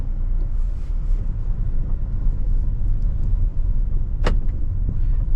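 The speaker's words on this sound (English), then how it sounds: "Let's go for a short drive in the city." Kia Sonet GTX Plus with 7-speed dual-clutch gearbox driven through the city, heard from inside as a low steady road rumble with faint wind noise and one brief sharp click near the end.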